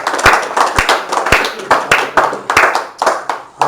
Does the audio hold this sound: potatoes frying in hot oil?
no